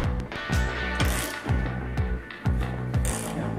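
A ball joint press being tightened to force a U-joint out of a driveshaft, giving repeated creaking, rasping metal strain with sharp clicks and knocks at roughly half-second intervals, close and steady.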